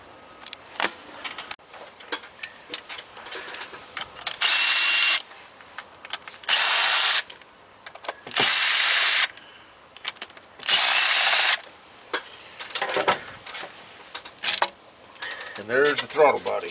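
A power tool, likely an impact driver or drill, whirs in four separate loud bursts while removing the throttle body bolts on a car engine; brief pauses and handling noises sit between the runs.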